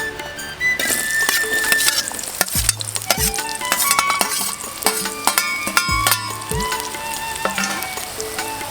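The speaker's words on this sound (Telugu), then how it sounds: "నూనె గరమైనాక ఉల్లిగడ్డలు వేసుకోవాలి" Onions frying in hot oil in a pan for a goat intestine and bottle gourd curry, with a steady close sizzle broken by a few scraping stirs and light clinks of a utensil against the pot.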